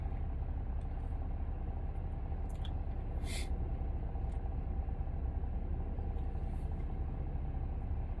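A car rolls along on a commute with a steady, loud cabin rumble of engine and road noise throughout, broken by a few faint clicks and a brief hiss.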